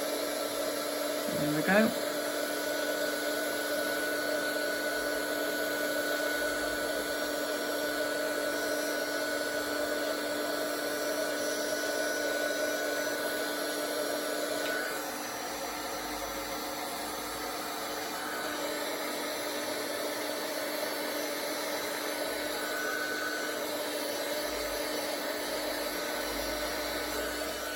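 Heat embossing tool melting embossing powder on a card, a steady whirring blower drone that holds for most of the stretch and drops slightly in level partway through, with a brief spoken remark near the start.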